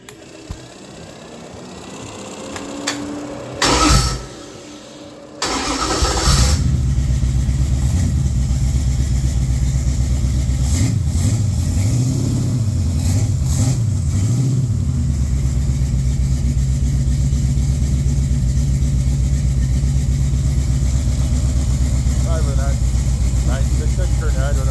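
A mildly built 1972 340 V8 with a 600 carb and stock rockers turns over and catches after a short crank, then settles into a loud, steady idle with a few blips of revving, close up.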